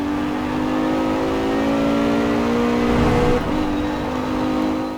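Car engine in a Forza racing game, running steadily with a sustained hum and gentle shifts in revs, loud and close, no talk.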